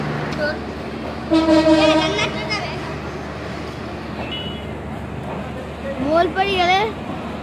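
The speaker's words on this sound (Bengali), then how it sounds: "আমার পিছনে যে ট্রেনটা দেখতেছেন, এই ট্রেনটা ছাড়ছে" A train pulling out of Santahar Junction, with rolling railcar rumble and two loud horn blasts near the start and end, while someone talks nearby over the station noise.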